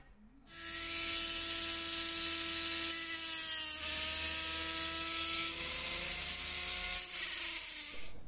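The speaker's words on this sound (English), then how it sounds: "I'm gonna split them in half, again with the Dremel." A Dremel rotary tool cutting through a Victorinox saw blade, a steady high-pitched whine that holds for about seven seconds and shifts slightly in pitch as the cut proceeds, close and loud with no talking.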